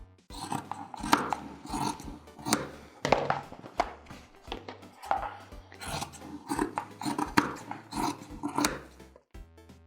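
Excess fabric trimmed off a jeans hem with scissors, heard as a steady series of close, crisp snips and crunching cuts in an even rhythm, with no talking.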